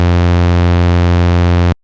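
A steady phase distortion synthesizer tone, a sine wave modulated toward a sawtooth, sustains as one bright, buzzy, harmonically rich note for under two seconds before cutting off abruptly.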